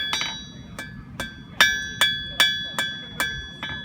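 Steady hammer blows ring out while forging a steel chisel, about nine sharp clanging strikes at an even pace, each leaving a bright ringing tone, close and clear.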